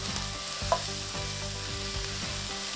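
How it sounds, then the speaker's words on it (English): Leeks frying gently in olive oil and butter in a sauté pan, a steady low sizzle with a few soft stirring scrapes and one brief clink near the start. "we're gonna put a little bit of olive oil into a sauté pan. And then we're gonna add our leeks right in here"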